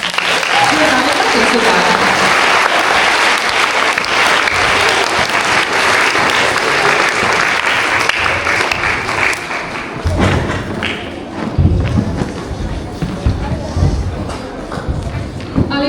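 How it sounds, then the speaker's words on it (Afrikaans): A large hall of children and adults at a Grade 1–3 school prize-giving assembly clap loudly and continuously, dense applause mixed with thumps and shuffling feet, while voices murmur throughout. "Ons klap vir hulle allemaal baie."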